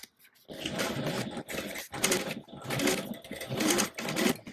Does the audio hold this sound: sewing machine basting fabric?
yes